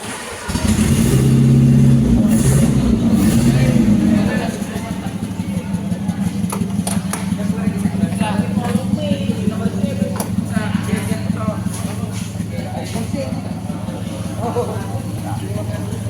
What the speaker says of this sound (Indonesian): memastikan mesin dapat di starter dan diuji pengisian yang baik